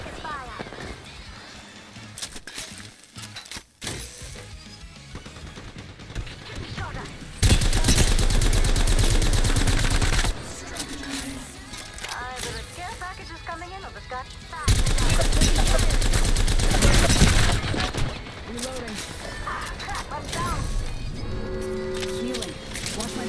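Hostile gunfire in an Apex Legends match, loud sustained automatic bursts arriving in two long stretches with quieter game ambience and sporadic shots between them, and a voice talking at times.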